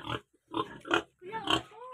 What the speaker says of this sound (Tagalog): Ang laki ng baboy dito.